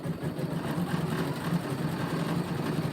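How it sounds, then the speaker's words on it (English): An embroidery and sewing machine stitching thread with a steady, rapid mechanical whir, close and unbroken, with no talking. "This machine does embroidery and it sews."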